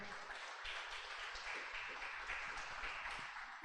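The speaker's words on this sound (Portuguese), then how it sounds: "Você pode louvar ao Senhor com as suas palmas, porque o Senhor é bom" Church congregation clapping their hands in praise, a soft, sustained patter of many hands heard from a distance, faint and unbroken, with no speech over it.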